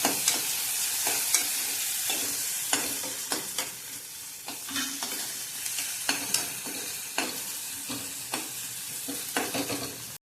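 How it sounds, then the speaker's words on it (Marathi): Curry leaves and a green chilli roasting in hot oil in a pan, a steady close sizzle with repeated sharp scraping stirs of a spoon, and no talking. "आता चांगलं तेलात भाजूया हे पण"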